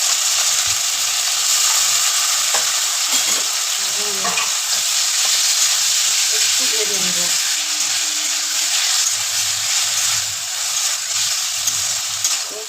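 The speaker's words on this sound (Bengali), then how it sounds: "পেঁয়াজটা ভাজা ভাজা হোক" Onions, drumstick, sweet pumpkin and tomato frying in a pan for homemade sambar, a steady close sizzle and crackle throughout with occasional stirring scrapes and faint speech in the background.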